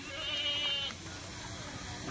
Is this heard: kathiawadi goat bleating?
yes